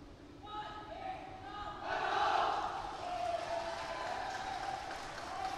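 Youth footballers of the Hong Kong under-16 squad shout together in a pre-match huddle at an AFC championship qualifier, a short collective chant swelling and fading amid stadium crowd noise, with a commentator talking over it.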